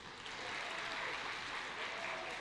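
Audience applauding at a panel discussion on women and poverty, a dense, sustained round of clapping that stays loud and even from start to finish.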